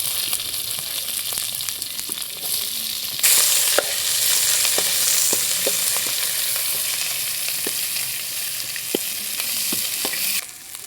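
Onions and green chilies frying in hot oil for a potato and cauliflower curry, a steady loud sizzle with a sharp burst as they hit the pan and scattered crackles and stirring clicks throughout.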